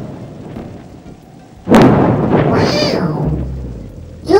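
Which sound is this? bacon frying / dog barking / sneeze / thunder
thunder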